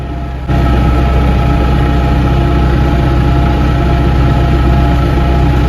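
A heavy tractor engine runs loud and steady from very close during field cultivation, a constant droning rumble that jumps up in level just after the start.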